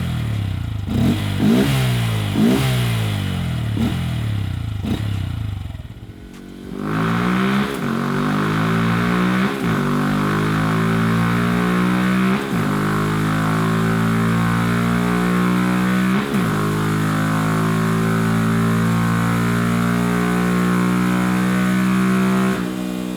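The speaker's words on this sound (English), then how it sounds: "once you turn the bike on and give it a few revs, immediately there is an improvement in the sound and acoustics of the bike." 2022+ Honda Grom motorcycle fitted with a TST WORX airbox cover, loud and close: a few quick throttle blips, a brief pause, then repeated sharp revs rising and falling over a steady idle, with no talking.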